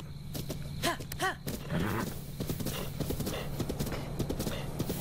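Hooves clip-clop in a quick rhythm while a horse whinnies twice, close and clear, with voices mixed in, in The Legend of Zelda: Breath of the Wild.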